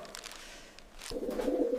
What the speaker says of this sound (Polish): Gołębie są wolne, dlatego wybrały mój balkon.